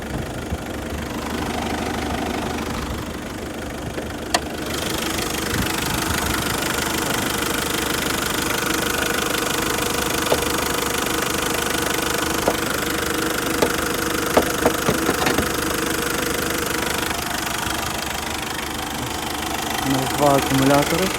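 A car with an automatic transmission and 150,000 km on it idles under the open hood, a steady close engine hum with faint ticking, while people talk.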